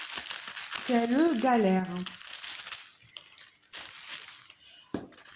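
Plastic wrapping around a large black scratch-art canvas crinkles and rustles as it is torn open, close and intermittent, with a voice sighing and speaking briefly over the first part.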